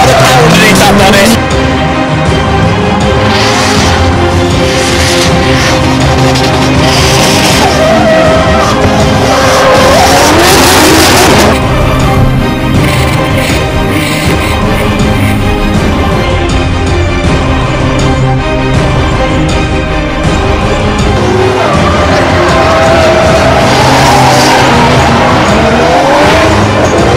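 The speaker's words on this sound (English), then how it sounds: "Richard McCourt from Team Lassa, smoking up those Lassa tyres in the Nissan Skyline RB3, he's got a lot of power underneath that bonnet." A high-powered Nissan Skyline drifting at a British Drift Championship round on Lassa tyres, engine roaring loud and continuous with long screeching tyre squeal, a commentator talking over the din throughout.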